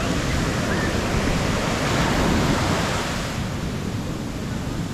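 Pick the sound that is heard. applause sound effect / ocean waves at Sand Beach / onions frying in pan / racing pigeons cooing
ocean waves at Sand Beach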